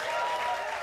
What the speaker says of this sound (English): the applause button is working